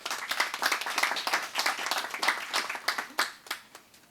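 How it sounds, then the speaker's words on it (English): An audience at the Ministry of Energy electric vehicle reveal in Montserrat, August 2019, claps in a lively, uneven burst of many hands, swelling and thinning and tapering toward the end without speech. "Let's give them a round of applause."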